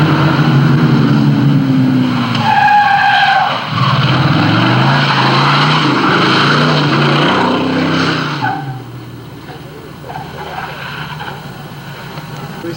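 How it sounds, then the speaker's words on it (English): A stunt car roars down a mountain road during a film shoot, its loud engine rising and sweeping past with tire noise before fading into the distance, with no talk over it. "Buddy Joe can drive the car down now if he's ready"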